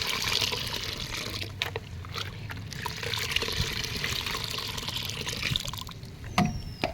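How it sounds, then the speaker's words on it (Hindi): Homemade liquid fertilizer trickles and splashes steadily as it is poured onto an aloe vera plant, with a few soft clicks and knocks along the way. "तो चलिए इसको हम डालते हैं एलोवेरा प्लांट में"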